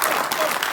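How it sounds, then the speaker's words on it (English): A short burst of steady applause from a crowd at a Wild Style 40th anniversary event, dense and continuous clapping without pause. "Can I hear a round of applause?"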